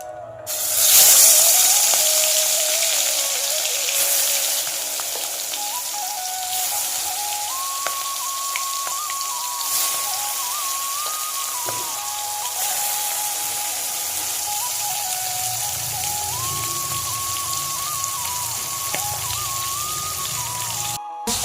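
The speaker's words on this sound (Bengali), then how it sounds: "চলো মাছটা ভেজে নিই।" Fish frying in hot oil in a wok, a steady close sizzle and spatter running throughout, with faint tonal music underneath and no talking.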